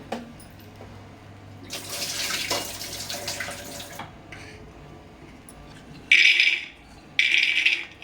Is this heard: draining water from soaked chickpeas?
yes